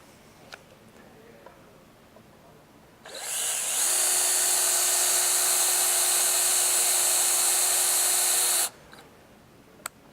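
A power drill boring pilot holes while fitting a replacement deadman switch, running loud and steady with a high whine for about five seconds after a quiet start, then cutting off abruptly.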